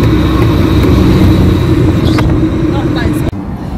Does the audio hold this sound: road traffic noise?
yes